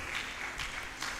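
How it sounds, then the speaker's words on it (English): Audience applause in a hall at a science and technology fair, a steady, moderately quiet wash of many hands clapping that swells slightly in places over its short span. "I think he deserves another round of applause."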